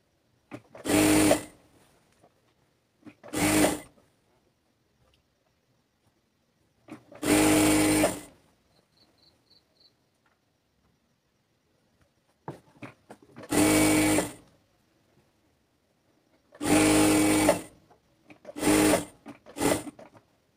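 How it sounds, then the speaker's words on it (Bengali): Sewing machine stitching the seam of a palazzo, several short bursts of rapid whirring separated by quiet pauses, close and clear with no talking. "আপনারা যদি সেলাই সুতা করে নিতে পারেন তাহলে এভাবে মার্জিন দিয়ে সেলাই করে নেবেন।"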